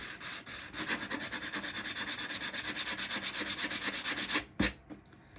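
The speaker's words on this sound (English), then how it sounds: "you could use your sander, but when I sand this" Hand sanding of a small wooden chalk craft piece gives quick, even rasping strokes in a steady back-and-forth rhythm, close and clear with no talk, stopping near the end after a couple of light knocks.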